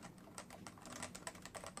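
Rapid typing on a CM Storm Novatouch keyboard with Topre switches, a steady run of close, soft clacking keystrokes with no pauses and no voices.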